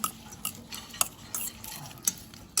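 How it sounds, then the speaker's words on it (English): A salad is tossed in a pan with a spoon, giving repeated light clinks and scrapes every half second or so over a faint background. "Mix it properly"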